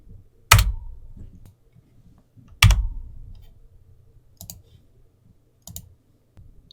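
Computer keys pressed sparsely: two sharp, loud clacks a couple of seconds apart, then a few lighter clicks, each standing alone in a quiet room.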